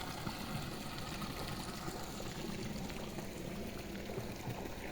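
Water gushes steadily from a submersible pump outlet on a borewell in a coconut grove, a continuous rushing pour heard from close by with no gaps.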